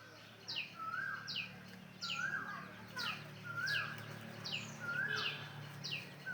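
A cuckoo calling from a tree at evening, repeating short rising-falling notes about every half second, moderately far and fairly faint over a low background hum.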